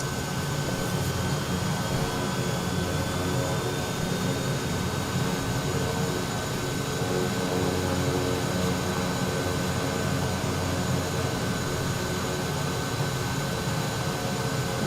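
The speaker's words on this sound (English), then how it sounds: "I am going to attempt to start this aircraft again without an explosion" Aircraft engine starting in Microsoft Flight Simulator, a steady whining, droning engine hum with a faint rising tone, held at an even level throughout with no talking.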